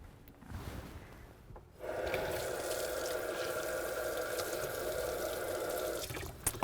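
Tap water runs steadily onto an apple being rinsed, a continuous close hiss lasting several seconds after a quiet start, with faint handling sounds and no talk.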